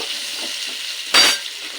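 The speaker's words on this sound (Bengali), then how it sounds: "দিয়ে দেব গাজরের টুকরো কেটে রাখা পটল এবার এগুলো একটু নেড়ে নেব" Carrot and pointed gourd pieces stirred in a pan with a steady sizzle, a brief louder scraping burst of stirring standing out midway, no voices.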